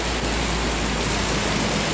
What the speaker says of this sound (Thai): ตื่นมาได้ยินเสียงฝนเลยออกมาถ่ายให้พี่น้องดูนะ